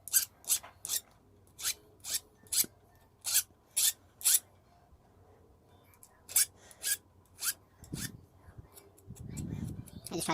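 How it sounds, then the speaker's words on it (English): Hand file rasping along the cut edge of ring metal stock, a series of short, crisp strokes in a steady rhythm close up, followed by a pause and some low handling noise at the end. "file down this edge."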